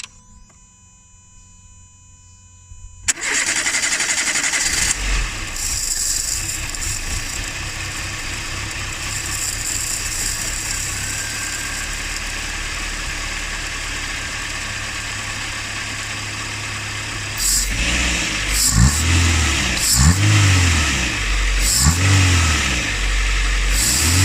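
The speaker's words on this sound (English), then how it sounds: "we're going to fire up the engine with that in," A Renault Twingo engine, fresh from a throttle body cleaning, cranks and catches, then settles into a steady, loud idle before several sharp revs rise and fall near the end, with no talking.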